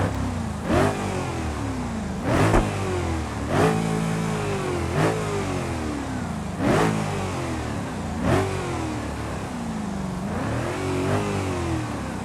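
A car engine in the BeamNG driving game revs repeatedly, about seven rising and falling pulls with short gaps between them, loud and close with no voices over it.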